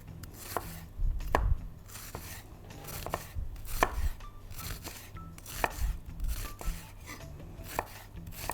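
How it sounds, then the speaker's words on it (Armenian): Onion sliced thinly with a knife for beef shawarma: a steady run of crisp blade chops on a cutting board, close and fairly loud, with no voices. "Փարակ կտրատում ենք"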